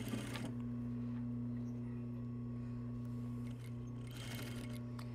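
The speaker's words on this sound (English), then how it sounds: "you're going to stitch it in place a couple of inches right along the seam line" A sewing machine runs steadily, stitching a skirt waistband along the seam line for a couple of inches, with a continuous close motor hum and stitching drone that eases briefly near the end.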